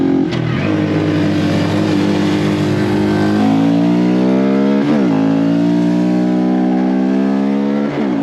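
A Honda Grom motorcycle engine with a noisy cam chain revs loudly close by, rising in pitch with sharp blips between pulls, a busy mechanical rattle running under the exhaust note.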